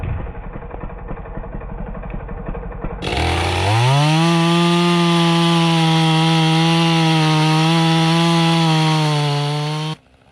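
A Husqvarna 390 XP chainsaw with a 16-inch bar and chisel chain idles roughly, then revs hard into a loud sustained high whine while cutting wood, cutting off abruptly at the end.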